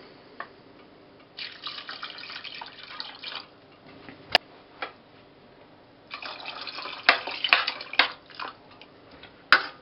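Water pours into a pot over strips of pumpkin and sweet potato in two splashing bursts, with a sharp clink between them and drips after. It is close and clear, with no talking.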